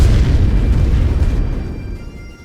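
Artillery explosions thunder in The Great War Western Front video game, a loud, deep, sustained rumble of overlapping blasts that gradually fades out.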